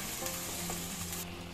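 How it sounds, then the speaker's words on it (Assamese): Vegetable curry with banana flower, oil, coriander powder and ginger is stirred in a pan, giving a steady close sizzle with soft scraping strokes and no talk. "দি গোটেইখিনি ভালদৰে লৰাই দিছোঁ।"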